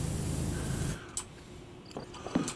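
A pressure washer sprays in the video game PowerWash Simulator, a loud broadband hissing jet that cuts off after about a second, leaving faint clicks and small game sounds.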